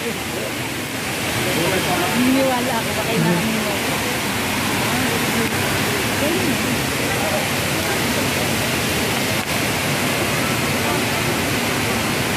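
Hinulugang Taktak waterfall sends out a steady, dense roar of falling water that fills the scene without a break, while people talk nearby over it.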